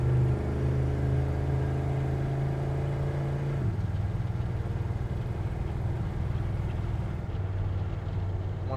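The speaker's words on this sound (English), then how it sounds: "We're gonna run it through the gears here real fast." A 1969 Chevrolet C10 pickup engine drones loudly and steadily while driving through the gears, its pitch dropping at about four seconds as it shifts and again near the end, heard from inside the cab with no talking.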